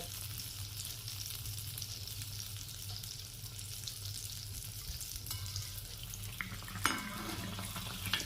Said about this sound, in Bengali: দিয়ে পিঠেগুলোকে ভেজে নিতে হবে